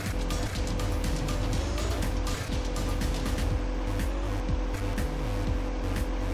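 A car engine drones steadily in a video game, with a continuous rumbling hum and small shifts in pitch as it drives over rough ground.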